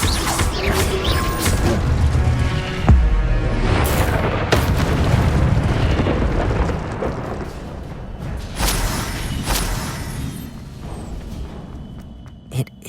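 Incendio fire spell cast in the Hogwarts Legacy video game on PS5, a dense roaring burst of booming, crackling blasts that fills the clip loudly and continuously before easing off near the end.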